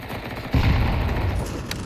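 A Tec-9 fires in a professional Counter-Strike match at IEM Rio 2024, pushed through a smoke wall: a dense, close burst of pistol shots starts abruptly about halfway in and rattles on over the game's ambience.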